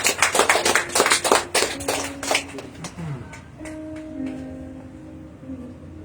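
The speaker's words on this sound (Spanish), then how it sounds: "Dele un fuerte aplauso al Señor." A church congregation claps together loudly during a worship service, a dense burst of hand claps over the first two seconds that thins out and fades, followed by a sustained tone and a quieter murmuring room.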